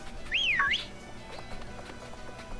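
A character whistles in the Pokémon Shield video game, a single clear rising-and-falling whistle phrase, fairly loud and alone over a faint game background.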